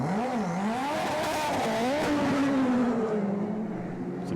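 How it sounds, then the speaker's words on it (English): A Super GT race car engine at the Okayama race rises and falls through its revs, loud and close, with a buzzing tone that climbs and drops as the driver shifts gears, and no commentary over it. "It's a good sounding car."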